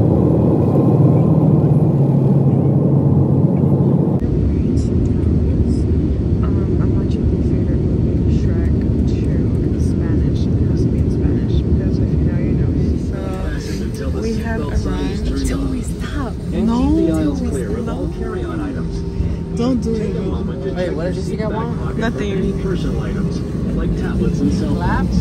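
Airplane cabin noise during landing: a loud, steady engine roar and rumble that shifts abruptly in tone partway through, with people talking faintly in the cabin.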